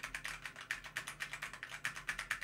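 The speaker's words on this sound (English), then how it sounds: "So just gonna type a bunch and then here's me talking. Is it picking up the keyboard?" Rapid, fairly even clicking from someone typing on a computer keyboard's WASD keys, as in PC shooter gameplay, recorded through an NZXT Capsule microphone; soft, close taps with no talking.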